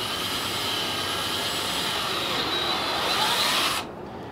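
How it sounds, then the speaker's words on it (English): A power drill bores a hole into a shot-up duck decoy, giving a steady, loud whine that runs continuously for nearly four seconds before cutting off abruptly near the end. "I'm just going to drill a hole right here, right below his keister."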